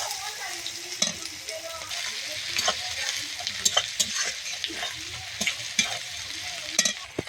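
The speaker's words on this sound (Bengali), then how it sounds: "পেঁয়াজ, তেজপাতা সব কিছু ভালো করে ভেজে নিতে হবে।" Onion, garlic and bay leaf fry in a pan with a continuous hiss, broken by frequent sharp clicks and scrapes of a spoon stirring against the metal.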